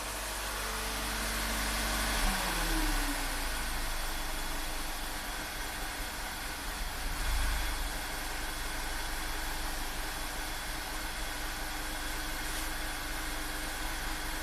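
A Volkswagen turbocharged direct-injection petrol engine idling, a steady low hum with a faint drone, one brief swell midway, and no voices.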